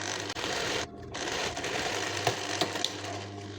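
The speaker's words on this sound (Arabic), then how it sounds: "خيط زوج خطوط" A sewing machine stitches two lines, running as a close, steady mechanical hum with a brief pause early on and a few light clicks near the end.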